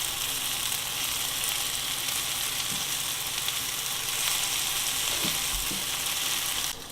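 Stuffed eggplants (baingan) fry in a pan with a constant, close, dense sizzle that runs unbroken throughout, with a few faint scrapes and bumps mixed in.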